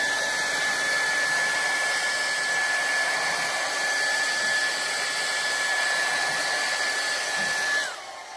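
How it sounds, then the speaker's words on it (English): A handheld hair dryer blows steadily with a loud, even whir to pop bubbles in printing resin, running alone for several seconds before switching off near the end. "I keep a hairdryer sticky or nailed to the side here hanging so that I can just kick this on."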